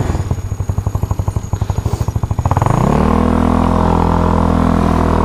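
A 232cc GY6 scooter with a Reveno clutch and 1000 RPM spring pulls away, its engine chugging in fast pulses that rise and then settle into a steady, loud drone, heard close with no talk.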